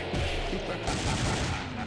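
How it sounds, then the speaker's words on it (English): Gunfire from the fighting video game Mortal Kombat Vs The World, a dense, loud burst of shot sounds filling the short moment with continuous crackling blasts. "She's got the gunshot."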